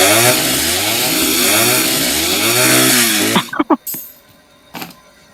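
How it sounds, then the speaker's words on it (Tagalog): A video game chainsaw revs and buzzes loudly with rising and falling engine pitch, then cuts off abruptly, followed by a few short clicks and thumps. "Chainsaw."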